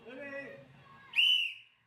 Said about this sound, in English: on the referee's whistle you will go